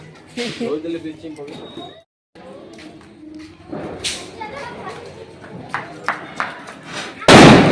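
Diwali firecrackers pop and crack outdoors, scattered sharp bursts near and far, ending in one loud close blast, while people talk throughout.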